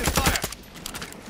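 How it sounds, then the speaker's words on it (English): Gunfire in the video game Warzone 2 on Ashika Island: a quick burst of rapid, loud shots in the first half-second, then quieter background game sound. "He's shooting at me"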